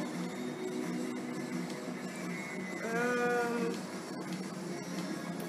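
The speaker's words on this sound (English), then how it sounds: "Got some sheep." A single sheep bleats in Minecraft, a short wavering cry in the middle of a dense game background with a steady hum, fairly faint.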